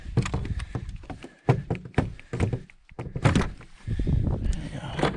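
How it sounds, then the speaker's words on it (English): A loose wooden cabin door on a hiking trail gets worked open with several hollow thunks, knocks and rattles at close range, with brief breathing and movement between the hits. "The door is loose."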